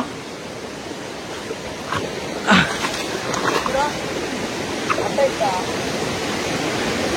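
Steady rushing water roars throughout, like a waterfall nearby, with brief voices and a few sharp sounds rising above the constant wash.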